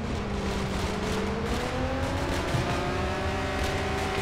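Steady engine drone of a car driving slowly in ARMA 3, a continuous low hum with a slowly shifting pitch, close and even throughout.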